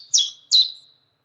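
Two short, bright chirping bird calls in quick succession, close and clear against silence; recorded birdsong followed by an AI-generated imitation of the same calls.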